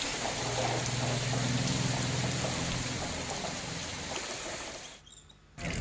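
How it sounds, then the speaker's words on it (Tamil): Heavy rain pours down steadily in Kovilpatti, a dense even hiss of drops drumming on surfaces that drops out abruptly near the end; no thunder stands out. "சுமார் 1 மணி நேரம் இடி மின்னலுடன் கூடிய கனமழை பெய்துள்ளது"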